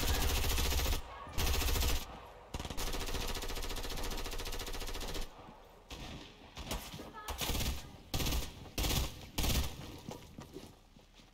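Rapid automatic gunfire in the video game Fortnite, loud bursts of machine-gun shots that rattle continuously and then break into choppy, staccato volleys with short gaps.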